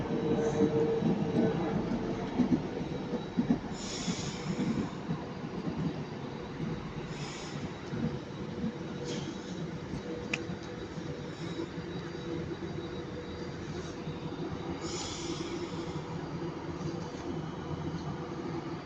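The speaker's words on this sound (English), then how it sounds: "here we have 390-046 working the 1224 Avanti West Coast service to London" Class 390 Avanti West Coast train at Stockport station, a broad rumbling drone with hiss and faint squeals and clanks, steady and moderately distant throughout, slightly louder at the start.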